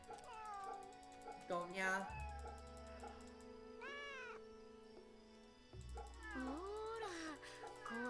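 A cat meows in several drawn-out calls inside the video game Fate/Samurai Remnant, over a steady game music bed, and someone speaks briefly between them.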